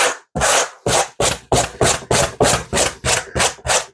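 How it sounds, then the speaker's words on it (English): A handheld wire brush scrubs an SUV headliner in fast, rhythmic strokes, about a dozen loud, close, raspy swipes separated by brief gaps. "my handheld wire brush is still faster than the drill"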